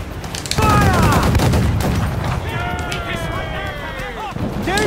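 Ship cannons fire in a naval battle in Assassin's Creed IV Black Flag, a heavy volley of booms followed by rumbling impacts, while shouting voices and whistling tones sound over the din.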